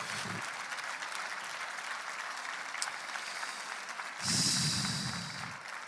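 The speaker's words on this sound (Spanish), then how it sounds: "Dale un aplauso de gloria a Dios." A church congregation applauds during a sermon, a steady, even clapping that continues for several seconds and swells louder near the end, with faint voices mixed in.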